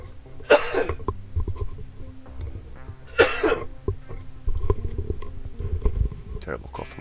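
A man gives two harsh, loud coughs a few seconds apart, with quieter rumbling and breathing between them and speech toward the end.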